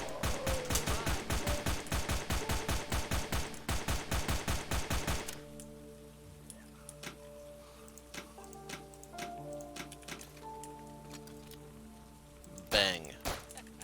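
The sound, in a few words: gunfire at zombies in the video game Outbreak: Epidemic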